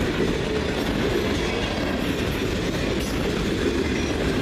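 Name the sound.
freight train passing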